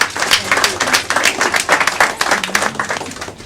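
Applause for a group of young ladies at a community event on raising Black youth, many hands clapping in a brisk, dense patter at moderate loudness from start to finish.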